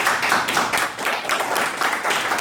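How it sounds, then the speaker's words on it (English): An audience at a seminar group presentation applauds: steady, dense clapping from many hands throughout, fairly loud, with no voices over it. "All right, let's clap them again."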